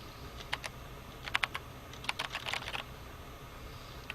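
Keys clatter on a terminal keyboard in the video game Event[0], irregular bursts of faint clicks in small clusters over a quiet background hum, with pauses between runs.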